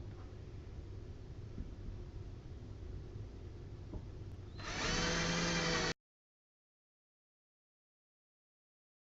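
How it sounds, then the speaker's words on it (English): A steady mechanical whir runs for several seconds, then rises into a louder, harsher grinding burst of a power drill boring into wood for a kitchen bar stool before cutting off to silence. "we're setting the drill bit about 1 7/8 inches long"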